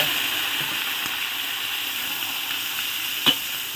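Fish sizzling as it is stir-fried in a pan, a steady broadband hiss of hot oil throughout with one brief sharper crackle near the end.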